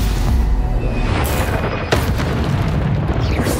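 Spell explosions in the video game Hogwarts Legacy, loud booming blasts with deep rumbling tails, one sharp burst near the middle, all over continuous combat noise.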